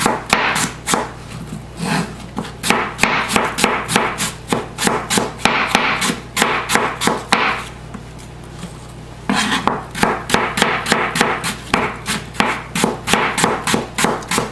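A knife cuts an apple into thin slices on a wooden board, giving rapid, evenly spaced chopping taps up close, with a short pause midway before the slicing resumes.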